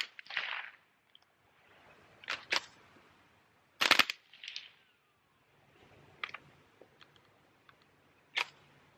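.22 caliber tracer rounds go off in several scattered sharp cracks, some nearly paired, with quiet pauses between and a faint hiss behind, heard from a modest distance.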